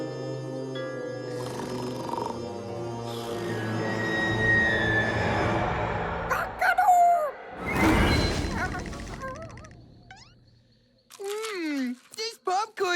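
A cartoon rooster's crow from a scary kids' animated series, a rising, strained call mid-clip set among music and sound effects, with character voices before and after.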